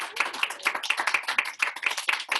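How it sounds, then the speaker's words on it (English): Steady clapping at a debate academy gala honours a tournament finalist, with quick, evenly spaced claps close to the microphone and no talking. "Please give a round of applause for him."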